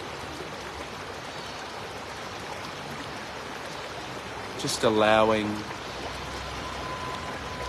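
A river flows with a steady broadband wash, close and continuous, while a calm voice speaks softly over it; a brief louder rushing swell rises midway before settling back into the even current.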